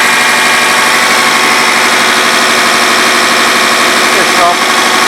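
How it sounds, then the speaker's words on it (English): VE rotary diesel injection pump turning on a multipurpose diesel pump test bench, giving a loud, steady mechanical whine and hum with a brief dip near the end. "Here we are testing a VE rotary pump."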